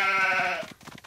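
A single wavering sheep bleat from a Paw Patrol children's video game rings out loud and close, then gives way to light rhythmic tapping and soft game sounds.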